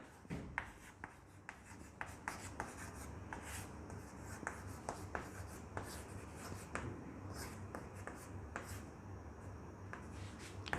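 Chalk or marker writing on a board during a physics lesson on mirror magnification, with a steady run of close, scratchy strokes and sharp taps against a faint room hiss.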